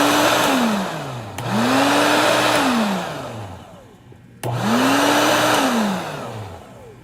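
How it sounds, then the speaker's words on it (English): A blower runs with a steady whooshing roar whose pitch repeatedly swells up and falls away in long cycles, close and loud, with no voices. "The blower still sounds the same."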